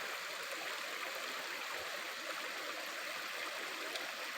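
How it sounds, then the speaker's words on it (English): A fire sprinkler system pump runs outdoors as a steady, faint hiss with a watery, rushing texture. It continues evenly with no voices. "that's the pump from my fire sprinkler system"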